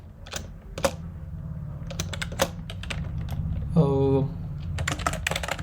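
Bursts of computer keyboard typing as code is entered, with quick irregular key clicks in short clusters, close and clear, and a brief tonal hum partway through.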